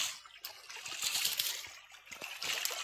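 Water runs fast through a freshly cleaned field irrigation canal, a steady close trickling and gushing rush with no talk.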